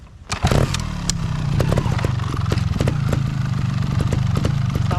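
A trials-style motorcycle engine idles loud and close after a sharp start, holding a steady throbbing putter with occasional revs and clicks while the rider balances on a step.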